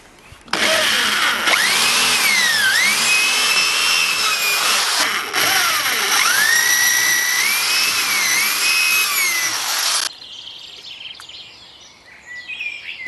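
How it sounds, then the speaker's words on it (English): A power drill boring two holes into a metal washing machine frame, loud whining bursts with pitch dips as the bit bites, a short pause between them, then quieter handling noises afterward. "So I'm just going to drill 2 holes in here and then I'm going to slot them."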